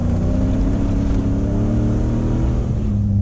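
A Toyota Hilux with an automatic gearbox and manual shift control, held in first gear, revs hard and loud, its engine note climbing and holding strong throughout.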